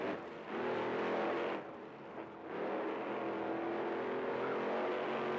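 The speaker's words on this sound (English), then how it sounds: "Excalibur trying to get a feel for the track here." A monster truck engine revs at a freestyle show in Raymond James Stadium in Tampa, a loud sustained roar that dips briefly and then surges again, heard from across the arena.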